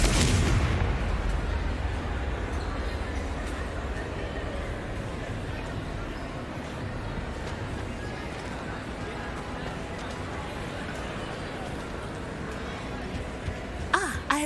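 Fire spell explosions from Hogwarts Legacy open with a loud burst, then give way to a rumbling, crackling bed of magical combat noise that persists under a speaking voice, with a few sharp impacts near the end.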